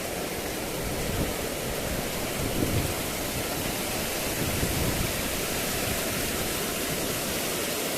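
Rainwater pours as a small waterfall into a farm field, a steady, loud, broadband rush of falling water with no break, close to the listener.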